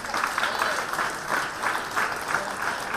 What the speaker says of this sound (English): Keep on clapping to encourage them.